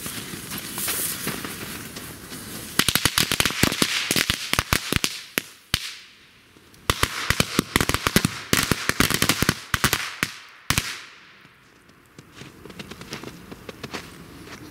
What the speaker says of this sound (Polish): Ale petardy wszystkie wybuchły.